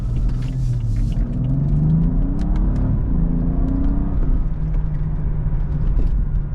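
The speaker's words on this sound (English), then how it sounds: "We're going to do a nice, starting off with acceleration test." A BMW with a turbocharged N55 engine accelerates along a main road, its deep engine rumble rising steadily in pitch through the gears, heard from inside the car, loud and continuous with no talking.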